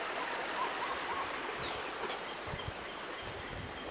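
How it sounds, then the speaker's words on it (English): A small stream flowing somewhere in Hawaii, a soft, steady wash of running water heard faintly and continuously with no voices over it. "You can hear the little stream down here."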